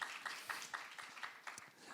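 A church congregation at a Saturday worship service claps in a steady, even rhythm, about four claps per second, faint and somewhat distant throughout.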